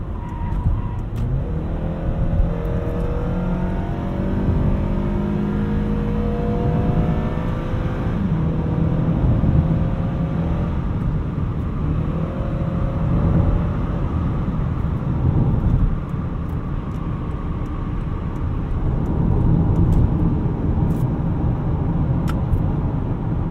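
A 2013 Acura TSX wagon's engine pulls hard in sport mode, its note climbing repeatedly through the gears. A continuous road and tire roar sits underneath throughout.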